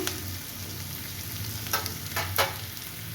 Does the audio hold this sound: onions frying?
yes